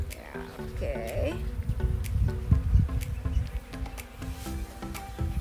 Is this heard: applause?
no